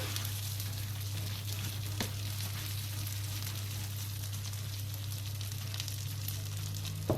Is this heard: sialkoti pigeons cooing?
no